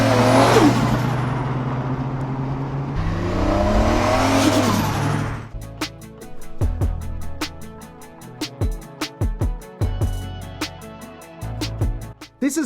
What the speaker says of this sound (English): On this episode of Grassroots Garage, we have Joe's 9-second Toyota Cressida.